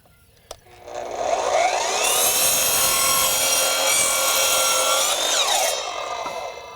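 An Evolution multi-material miter saw spins up and slices through a warped, knotty piece of wood. The blade gives a loud, sustained grinding whine for several seconds, then winds down.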